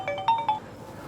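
A mobile phone ringtone chirps out a short, bright melodic phrase of quick tones, then stops, playing alone.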